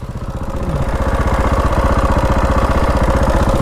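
A 2006 KTM 525 EXC enduro motorcycle engine idles close by, its single-cylinder thump steady and rhythmic after a brief rise at the start, loud and alone.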